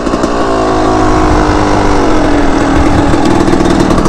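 A dirt bike engine running loud and close, a steady buzzing drone with a slight rise in pitch toward the end and no voices.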